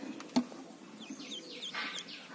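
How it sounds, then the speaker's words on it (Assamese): One-day-old ducklings hatched under a hen give faint, high peeping calls in short, scattered bursts over a quiet background. "আপোনালোকে চাই আছে এদিনীয়া হাঁহৰ পোৱালি"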